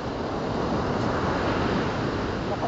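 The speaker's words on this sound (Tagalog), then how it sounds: "Oh, lakas alon." Loud, continuous crashing surf of strong ocean waves at Pundakit beach fills the whole stretch, a dense roar of breaking waves with wind buffeting the microphone and no voices.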